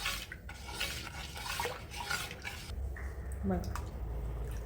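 A spoon clinks and scrapes in a bowl of rice flour batter for Konkani ghavan, giving soft wet stirring and dripping sounds under a voice speaking close by.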